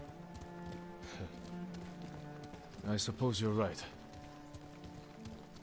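Steady clip-clop of horse hooves at a riding pace in Ghost of Tsushima, running quietly beneath a music bed while a person speaks briefly over it.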